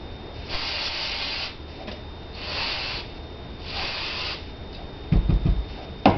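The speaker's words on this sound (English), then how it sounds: "And I take my brake cleaner that I buy at the automotive store." Aerosol brake cleaner sprayed onto a Smith & Wesson M&P pistol part in three close, loud hissing bursts, followed by a few sharp knocks of handling near the end.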